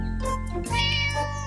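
A cartoon cat gives a couple of close, loud meows in quick succession, one drawn out and rising.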